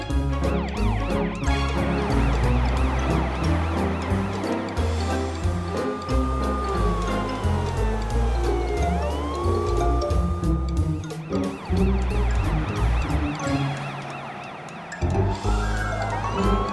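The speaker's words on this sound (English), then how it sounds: "Now Morphle can see what a real fire truck can do." A cartoon fire truck's siren wails and sweeps up and down, loud and close, over a busy animated soundtrack of music and effects, with a few brief pauses along the way.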